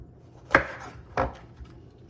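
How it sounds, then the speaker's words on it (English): A knife splits bell peppers on a cutting board with two distinct firm chops about half a second apart, close and clear against a quiet kitchen background. "you're gonna wanna be splitting them just so that they're fairly flat"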